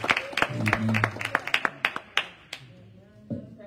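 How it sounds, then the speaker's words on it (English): A church congregation claps hands in a quick, uneven series of sharp claps, close and fairly loud, with voices speaking and singing underneath before the clapping thins out. "Come on, clap your hands"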